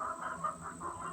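Young peachicks calling close by, a series of four or five soft, rising peeping chirps spaced about a quarter second apart, fairly quiet with no talking.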